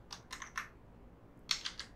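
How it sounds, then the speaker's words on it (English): Quiet clicking of computer keys, two short bursts of three or four keystrokes each separated by a pause, close and dry with no voices. "Keystroke in the sense, so how we are typing on your keyboards."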